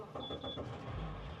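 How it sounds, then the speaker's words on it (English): A Quintrex 660 Trident boat's outboard engine is started, a brief whirring crank with a faint whine, then a low idling rumble settles in, quiet and close. "While we're here, we will just start the engine."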